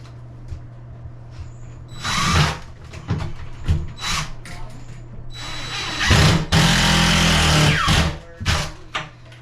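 A power drill drives screws into a bathroom vanity during installation, with several loud whirring bursts of varying length separated by pauses, the longest near the end, close by and with no speech.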